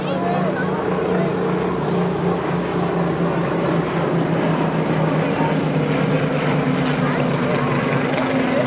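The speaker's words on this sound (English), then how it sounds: "Spitfire Mark 19" A Spitfire Mark 19 flies at the Blackpool airshow with a continuous, loud propeller-engine drone throughout, under crowd and public-address murmur.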